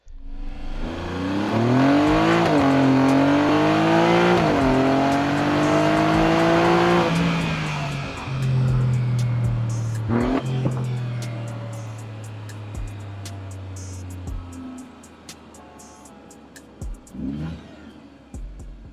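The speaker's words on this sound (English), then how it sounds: "8-cylinder Ferrari engine" A high-revving Ferrari V8 engine roars close by, climbing through several rising sweeps before dropping to a lower idle burble with occasional blips.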